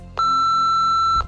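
A single steady electronic voicemail beep from a Nancy Drew video game, a clean sustained tone lasting about a second, loud and alone with no talk.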